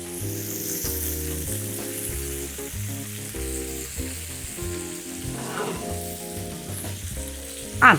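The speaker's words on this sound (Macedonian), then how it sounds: "Ќе ги допржам ражничите" Exotic meat skewers frying in a pan give a steady sizzle that runs the whole time beneath louder background music.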